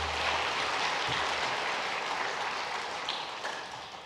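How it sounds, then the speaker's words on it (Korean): Congregation in a Sunday church service applauding a mission team, a broad continuous patter of many clapping hands, moderately soft and slowly fading, with no voices over it. "다시 한번 선교팀 큰 박수로 격려하겠습니다."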